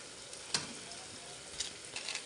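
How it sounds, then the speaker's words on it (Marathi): Whole spices fry in hot oil in a pan for masala rice, making a soft, steady sizzle with a few brief crackles and stirring taps. "अख्खे बघा कसं मस्त फ्राय व्हायला लागलेत बघा"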